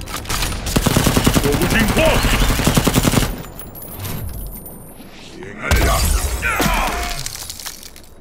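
Soldiers firing guns in the Mortal Kombat XL video game: a loud sustained burst of rapid automatic gunfire for about three seconds, a quieter lull, then another heavy volley with shattering impacts.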